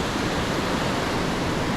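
Ocean surf off a fishing beach, with waves breaking in the first gully: a dense, continuous roar of crashing water, loud and steady, with no voices.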